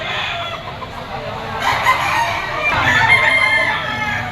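A rooster crows loudly and close at a chicken auction market in Lipa, one drawn-out call rising over a busy background of other fowl and murmuring people.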